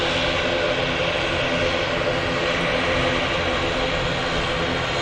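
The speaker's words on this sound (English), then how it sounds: "That racket coming from the ATR in front of us, heading out to the Isle of Man." An ATR turboprop airliner at Manchester Airport, its engines giving a loud, constant roar with a propeller drone, close and unbroken throughout.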